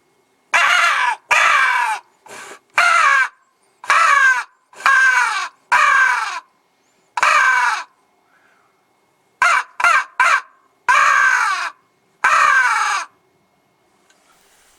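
A hand-blown crow call imitates hooded crows in the Highlands with a run of loud, harsh caws in uneven bursts, some single and some in quick triplets, separated by short silences.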